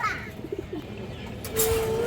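Several pigeons, tota and other fancy breeds kept for sale, give short low coos that repeat in a loose rhythm, close by, with a brief burst of louder noise toward the end.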